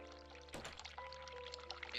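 Hot water runs at a sink in The Cat Lady, starting abruptly as a soft splashing pour over a faint musical hum and continuing unevenly to the end.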